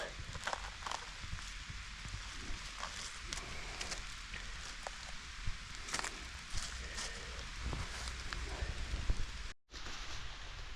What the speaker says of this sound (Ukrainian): І так, почався знов дощ.